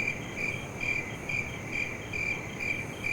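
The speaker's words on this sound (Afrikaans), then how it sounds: "krieke maak daai geluide deur hulle vlerke te mekaar te vryf" Crickets chirp at night, a steady high pulsing trill repeating in regular short bursts, soft and even over a quiet hiss with no voices.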